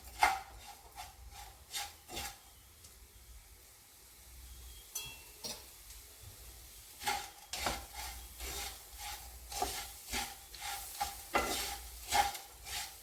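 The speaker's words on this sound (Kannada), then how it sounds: "ಮಿಕ್ಸ್ ಮಾಡೋಣ." Jaggery stuffing with cardamom powder stirred in a hot pan for momos, giving repeated close scraping and rubbing strokes with a soft sizzle, irregular in rhythm, no voices.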